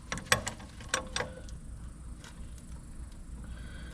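A ratchet wrench with a 21 mm socket loosens a brake retaining bracket bolt on a GMC, giving a few close, sharp clicking bursts in the first second and a half, then quiet workshop ambience.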